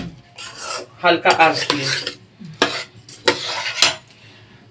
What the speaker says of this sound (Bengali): আর চালটাকে এরকম আস্তে আস্তে করে একটু নাড়িয়ে নেবেন